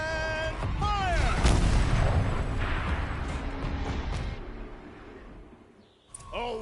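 A turret in Horizon Zero Dawn fires with a heavy, booming blast followed by a long rumbling roar that fades away, with a voice speaking over the start.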